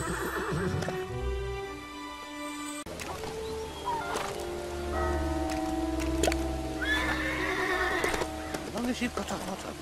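In the LEGO The Hobbit video game, a horse gives a loud, drawn-out whinny and snorts, with hooves clip-clopping and other animal and ambient game sounds around it.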